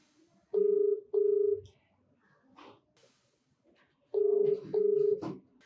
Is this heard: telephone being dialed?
yes